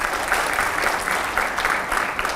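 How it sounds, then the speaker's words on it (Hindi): Sustained audience applause at a Hindi televised editors' forum with a politician, dense steady clapping filling the room for the whole stretch with no speech over it. "जोरदार तालियां हुआ करें"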